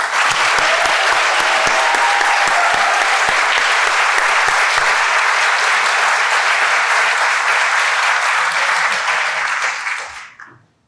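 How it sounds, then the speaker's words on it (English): An audience at a law school graduation celebration applauds the graduating students, with dense, loud, sustained clapping that holds for about ten seconds and then quickly fades out. "And one final round of applause for all of the students"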